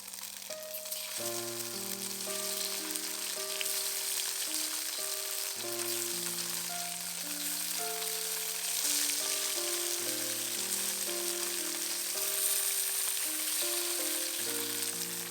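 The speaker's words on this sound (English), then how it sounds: "Pat dry the tofu and fry them till they are golden brown on both sides." Tofu frying in oil in a pan until golden brown on both sides, a steady soft sizzle and crackle running the whole time beneath sustained background music, with no talking.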